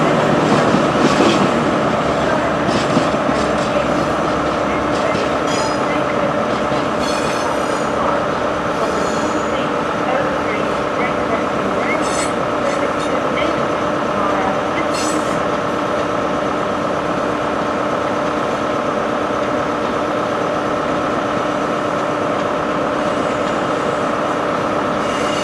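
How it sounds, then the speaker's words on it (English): A British HST high speed train passing close by at a station in South Wales, a loud continuous roar of rolling wheels and engine drone with rhythmic rail clatter sustained throughout, no talking. "There's an HST."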